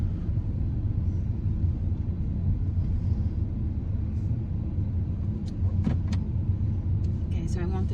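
A vehicle rumbles steadily at low speed while backing up a trailer, its engine and road noise a constant close drone, with people talking over it and a few light clicks near the end.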